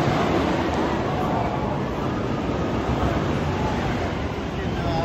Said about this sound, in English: There's a train going through.